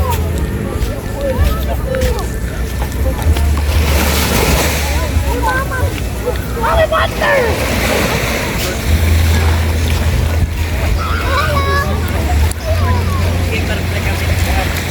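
Surf washes steadily along a shore under gusty wind noise, with people chatting and calling out nearby throughout.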